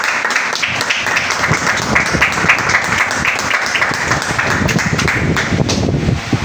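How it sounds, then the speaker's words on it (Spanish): A congregation claps for God during a church service, a dense, steady burst of applause filling the room and holding evenly loud from start to finish. "Da un fuerte aplauso a Dios."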